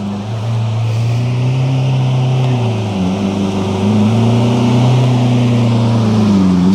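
A supercar, likely a Porsche 911 GT3 RS, pulling in at a Cowbridge Cars & Coffee meet, its engine droning loudly with wavering pitch as it idles and creeps closer.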